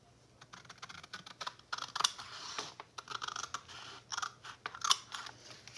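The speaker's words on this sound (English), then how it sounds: "then we're just going to cut straight across" Scissors cut straight across paper for a folio gift set craft, giving a run of close, crisp snipping clicks in irregular bursts with no talk.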